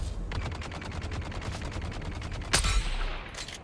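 Rapid automatic gunfire from shooting enemies in Dune: Awakening, a steady stream of close, loud shots at an even fast rhythm, capped by a heavier blast near the end.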